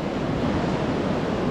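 Sea waves wash up on a beach in Goa, producing a steady, loud roar of surf and rushing water with no break and no voices.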